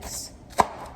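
A single sharp knife chop through an onion strikes a cutting board, loud and close, with quiet kitchen background before and after.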